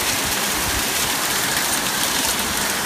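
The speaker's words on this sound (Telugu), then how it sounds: "చాలా భయంకరంగా కురుస్తుంది. బహుశా గాలివాన కావచ్చు, గాలివానలాగే కురుస్తుంది." Heavy storm rain mixed with hail pours down in a dense, loud, continuous roar with no let-up.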